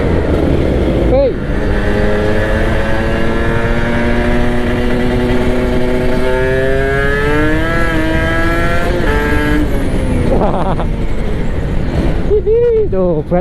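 Kawasaki Ninja RR two-stroke motorcycle fitted with a GJR Racing exhaust, revving loud and close, pitch climbing and falling through repeated throttle blips with a raspy buzzing tone, and a brief voice in the middle.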